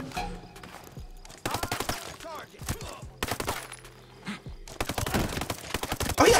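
Shotgun fire in Ghost Recon Breakpoint comes in several sharp, loud clusters of blasts separated by quieter gaps, close and harsh, with a busy game-combat backdrop between bursts.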